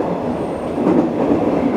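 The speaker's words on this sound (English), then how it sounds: "there's a train going by next to us. God, it makes a lot of noise." A train rolls past close by on a JR line near Tosu in Japan, a loud, steady rumble of rail cars with no talking over it.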